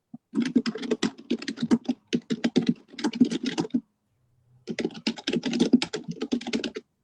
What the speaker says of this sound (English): typing. That's why I was on mute.